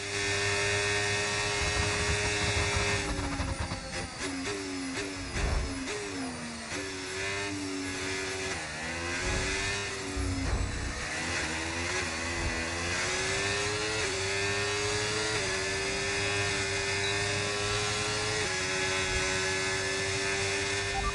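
Simulated Formula 1 car engine from the F1 25 racing game, heard from the cockpit, revving hard and climbing through gears in repeated rising sweeps, loud and continuous, with no talk.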